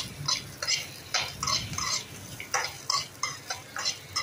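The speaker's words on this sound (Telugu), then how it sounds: "ఇప్పుడు మన వెల్లుల్లి రెబ్బలు కూడా ఫ్రై అవ్వాలి." Ginger pieces, green chillies and about ten garlic cloves fry in a pan with repeated sizzling bursts and stirring scrapes, a steady series of short crackling pulses heard close up with no talk.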